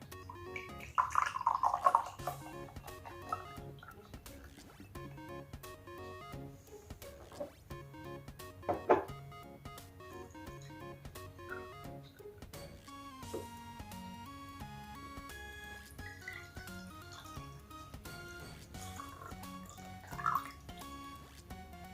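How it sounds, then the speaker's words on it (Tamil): Water is poured into a glass to about half full while preparing a floating lamp for Karthigai Deepam, with splashy liquid trickles and drips over steady background music and a brief louder splash near the start. "இந்த கிளாஸில் கொஞ்சம் தண்ணி விட்டுட்டு"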